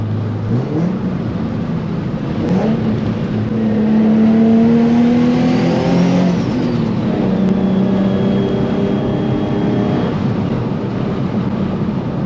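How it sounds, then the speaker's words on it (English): Boosted Nissan 350Z driving up a canyon road, engine loud and close, revving up through gears with rising pitch sweeps and shifts, plus a faint turbo whistle. "Let's see how long it takes us to get up to the top."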